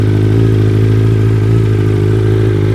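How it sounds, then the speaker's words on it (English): A BMW M 1000 RR sport bike fitted with a new exhaust idles as it warms up, giving a loud, steady, deep engine drone throughout with no revving and no voices. "We'll let the bike warm up and then we'll do some revs afterwards"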